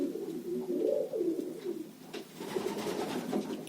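Pigeons cooing in winter, breeding hens in a loft, soft low rolling coos repeating close by in a quiet space, with no talking.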